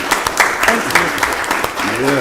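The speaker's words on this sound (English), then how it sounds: "let's give her another round of applause" Applause at a county board of commissioners meeting, a short round of clapping from the room with talk running over and after it.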